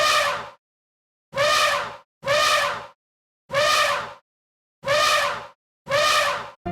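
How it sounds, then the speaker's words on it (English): An elephant trumpets six times, each loud, brassy blast ending abruptly, separated by clean silent gaps. "It's an elephant, so big and so smart."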